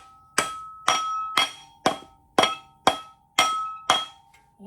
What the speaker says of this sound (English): I got to get a mallet.